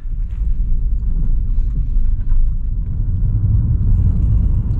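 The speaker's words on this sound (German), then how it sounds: "hört ihr das? Ein Auto!" A car rumbles past at close range on a road near the Russian border on the way to Lake Inari, a steady low engine and road roar mixed with wind buffeting, with no voices.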